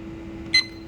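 A digital temperature and humidity clock gives a single short, clear electronic beep as its mode button is pressed, standing out briefly over a low steady hum.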